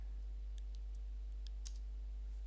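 Light typing on a computer keyboard during a command-line install, a few quiet, scattered key clicks over a steady low electrical hum.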